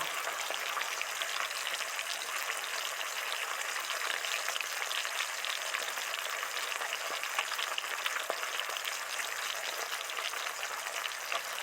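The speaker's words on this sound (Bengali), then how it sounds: "এবার কড়াইতে তেল গরম করে নিয়েছি আলুগুলো ভেজে নেব" Potato pieces coated in salt and turmeric frying in hot oil in a wok for mutton curry, producing a dense, continuous crackling sizzle that stays close and even throughout.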